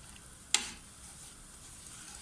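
Semolina roasting on low heat in a pan for suji halwa, a soft, faint sizzle and stirring hiss beneath a single sharp clink of a spoon against the pan near the start.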